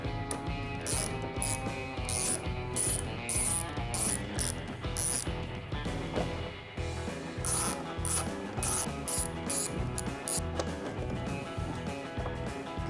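A ratchet with T25 Torx bits removes the four windscreen bolts on a Harley-Davidson Road Glide touring motorcycle. Quick rapid clicking runs in repeated bursts with short pauses, close up and steady, with no talking.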